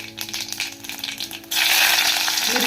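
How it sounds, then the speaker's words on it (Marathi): Cumin and mustard seeds are tipped into hot oil for an upma tempering, a quieter crackle first that suddenly swells after about a second and a half into a loud, steady close sizzle with no talking. "आता हे तेल तपल्यानंतर त्यात आपण जिरं मोहरीची फोडणी देऊया"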